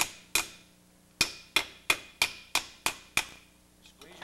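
A hammer strikes a sheet metal bend held against the edge of an anvil, ringing metallic blows at a steady pace, about eight close, loud hits, each decaying quickly.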